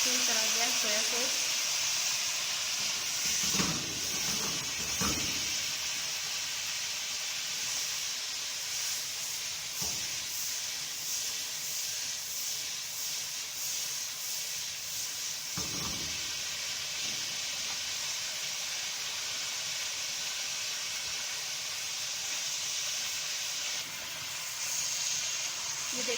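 Chicken karahi with soy sauce bubbling and sizzling hard in a hot pan, a loud, continuous hiss and spatter throughout, with a few clanks of a spoon against the pan.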